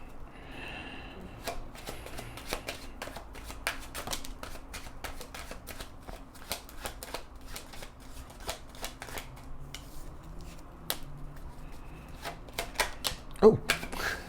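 Tarot cards are shuffled close up in a long run of crisp riffling snaps and slides, with irregular bursts throughout and a louder flurry near the end.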